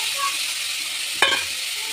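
Boiled green peas sizzle in a tomato masala in a pan while a spoon stirs them, giving a brief scraping clatter near the end over a steady close hiss.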